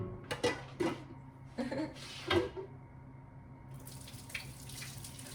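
Water from a kitchen tap runs into a sink while soup is made, in several short bursts that splash and gurgle, then a softer steady flow near the end.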